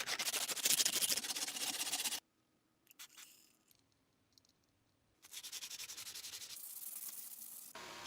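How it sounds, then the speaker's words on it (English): Abrasive sandpaper rasps steadily across a steel 1874 French Gras bayonet, worked from coarse 180 grit up toward fine 2000 grit; close, loud, even strokes fill the opening seconds, pause into near-silence, then resume in a long steady stretch. "Next, I sand it gradually from coarse to fine grits, from 180 up to 2000."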